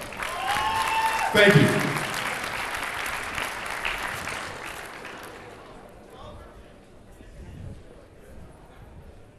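At a high school track and field award assembly, the audience applauds the varsity boys track team; loud clapping swells early, a voice briefly speaks, then the applause thins and fades out.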